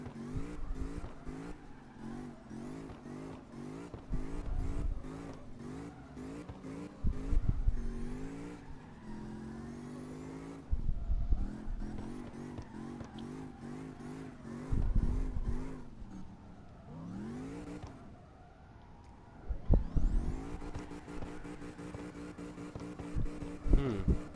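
A Mercedes-AMG GT drifts in CarX Drift Racing, its engine repeatedly revving up and down in loud surges as the tires screech and shred through the slides.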